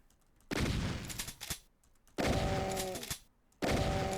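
Three loud shotgun blasts in the video game Doom the Roguelike, each a sharp booming crack with a rolling tail, spaced roughly a second and a half apart with near-silent gaps between them.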